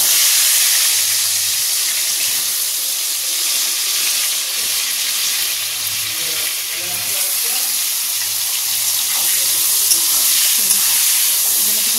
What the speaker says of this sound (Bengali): এই কড়ার তেলেই আমি বেগুন ভেজে নেব